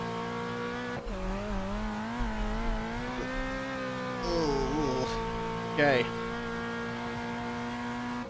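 A race car in the Brazilian Touring Car Classics sim slides through the first turn, its engine droning steadily while tires squeal in short bursts. A Fiat engine powers the car, and a voice speaks briefly over it.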